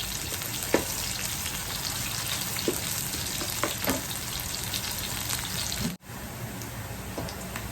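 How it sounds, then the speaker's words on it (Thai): Shallots frying in an electric pan, a continuous dense crackling sizzle with occasional louder pops and a brief stir, close and steady throughout. "เดี๋ยวหอมแดงให้หอมนะ ถ้ามีเวลาก็เจียวให้มันเหลืองเลยก็ได้นะครับ"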